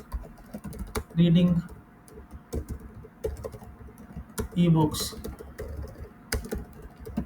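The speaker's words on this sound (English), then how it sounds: "just randomly I'm typing" Random typing on a computer keyboard in a library study setting, a steady patter of light key clicks running throughout, with a person speaking over it.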